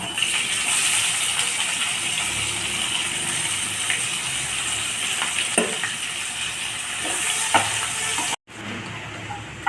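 Chopped onion tossed into hot oil with garlic and cumin for a fish curry, a loud continuous sizzle with a few sharp spatula clicks and stirring scrapes, close up, cutting off abruptly near the end.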